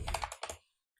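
A short flurry of computer keyboard keystrokes as a command is typed into a Windows command prompt, several quick close clicks in a burst before falling silent.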